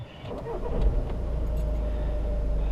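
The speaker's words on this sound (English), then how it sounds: "Let's get the old engine going." Seat Leon FR 2.0 TDI 170 bhp diesel engine cranking and catching, then settling into a low, steady rumbling idle heard from inside the car, with a faint radio in the background.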